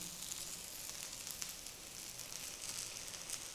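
A jowar uttapam roasts on its second side in an oiled pan over a low flame, giving a faint, even sizzling hiss that holds steady throughout, with no one speaking.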